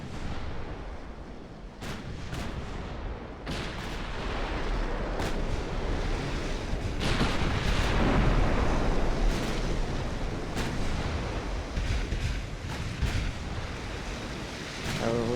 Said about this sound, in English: they are attempting to return fire